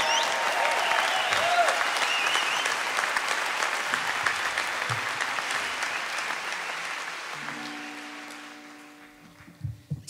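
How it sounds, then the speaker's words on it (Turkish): A big band concert audience applauds loudly and at length for the arrangements. Dense clapping fills the hall, then thins and fades, and a few instrument notes and noises follow at the end. "bir kez daha bir alkış rica ediyorum"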